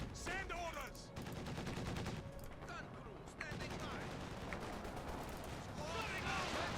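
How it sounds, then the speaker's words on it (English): Dushka heavy machine gun opening fire in Company of Heroes 2, mixed with other gunfire in a dense, continuous battle soundscape, with a commentator talking over it. "Down south, we have a Dushka opening fire."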